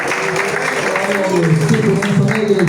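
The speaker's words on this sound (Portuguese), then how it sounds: "Bate o palma e glorifica o nome do Senhor." A church congregation claps to welcome the pastor, a dense, continuous patter of palms mixed with loud voices throughout.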